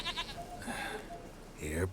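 A goat bleats in The Witcher 3, a couple of short nasal cries near the start and a louder, wavering bleat at the end, with faint game ambience between.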